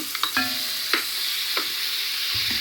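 Small and large chopped ripe tomatoes sautéing in a pan for a Jaffna crab curry, giving a continuous close sizzle broken by several sharp spatula scrapes and knocks against the pan.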